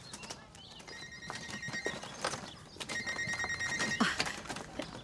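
A telephone rings in two trilling bursts, each about a second long, over background clatter and muffled knocks.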